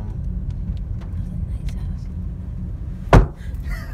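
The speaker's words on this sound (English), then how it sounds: "you literally punched her car" A fist punching a car on Dudley Road in Billerica, Massachusetts, heard as one sharp, loud thud near the end, standing out above a low steady rumble of engine noise.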